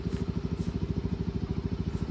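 A motorcycle engine being tuned after a cylinder head rebuild with new valve seals and ported, polished valves, idling with a steady, fast, even pulse, loud and close with no talk over it.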